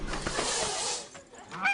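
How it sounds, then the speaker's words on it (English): A goose hisses in a long breathy rush, then lets out a short honk near the end, close and fairly loud. "I didn't know you'd turn this into a hissing competition."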